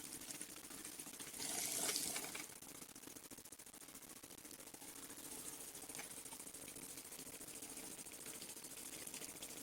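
The magnetic stirrer of a Karl Fischer apparatus runs at maximum speed, giving a steady, dense mechanical whirring buzz, faint and continuous, with a brief louder hiss early on and no talking.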